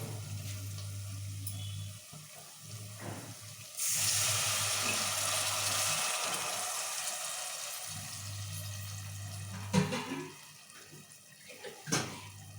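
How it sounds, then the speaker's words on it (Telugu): Water pours steadily into a pan for upma, a rushing splash that lasts several seconds over a low hum, with a few clinks nearby. "మేము వాటర్ పోసుకున్నాం"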